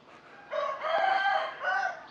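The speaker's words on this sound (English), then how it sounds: "I'm going to move away from that one rooster who's really loud" A loud rooster crows close by, one full drawn-out call with a brief cluck-like break, clear over quiet background.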